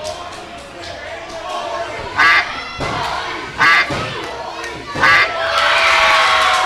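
A wrestling crowd roars and shouts after a flying elbow off the top of a steel cage, sustained cheering with several sharp louder surges and thuds.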